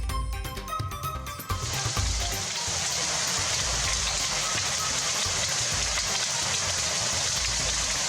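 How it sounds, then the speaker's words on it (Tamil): Hail and rain pour down in Pandalur, a dense, steady hiss of drops hammering surfaces, starting abruptly after a brief stretch of other sound and continuing evenly at a close, loud level. "பந்தலூர் பகுதியில் ஆலங்கட்டி மழை பெய்ததால் மக்கள் மகிழ்ச்சி."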